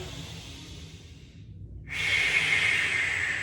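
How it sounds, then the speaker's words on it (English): A long, deep inhale through the nose during a seated stretch, rising after a short pause and continuing steadily and fairly close, with no speech. "3 deep breaths in through the nose"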